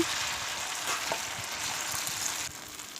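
Flour and egg batter fries in hot oil with a dense, continuous sizzle and a few soft crackles, close and steady, easing slightly near the end.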